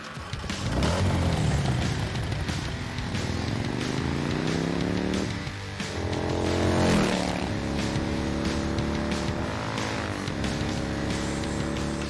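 An Arch Motorcycle engine revs and roars, recorded for Cyberpunk 2077, a loud continuous drone with rising and falling pitch sweeps as the throttle opens and eases, close and steady throughout.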